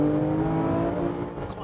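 Porsche 997 GT3 RS engine droning steadily from inside the car while driving, a loud continuous rasp with no gaps.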